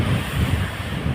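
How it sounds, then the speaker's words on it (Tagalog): Strong wind roars and buffets the microphone in a continuous low rumble at a bay park, loud and close, with no voices. "Sa lakas ng hangin"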